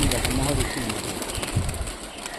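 Local racing pigeons in Rajshahi coo softly amid steady outdoor wind noise and rustling, with people talking faintly nearby.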